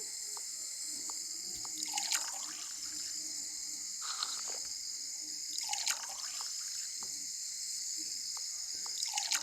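Water trickles and splashes during washing in a Toca Boca game, a soft running stream with periodic gurgling, splashy swells and small drips at a low level.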